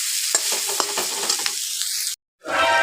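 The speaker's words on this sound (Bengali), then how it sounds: "নেড়ে নেড়ে ভালো করে কষাবো" Spices with chilli, turmeric and salt are stirred and fried in a pan, a steady loud sizzle broken by sharp spoon scrapes and clinks, then a brief cut to silence before the frying resumes.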